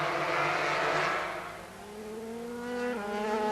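Superbike racing motorcycles scream off the start line at a British Superbikes round, engines revving hard and rising in pitch as they shift up, loud and close with a whirring edge.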